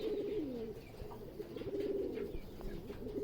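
Fulsiya Madrasi pigeons, kept as a pair, give soft, rolling coos close by that repeat over a faint background hiss.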